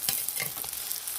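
Onion, ginger-garlic paste and chopped tomato frying and being stirred in a pan, a close, steady sizzle with scraping stir sounds and no voices.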